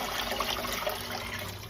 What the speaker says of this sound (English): So guys, we're pouring in the water.